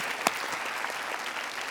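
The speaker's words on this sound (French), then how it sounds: "Ah, vas-y, applaudis, applaudis." A television talent-show audience claps in a steady, dense burst of applause with one sharper clap near the start, alone and without speech.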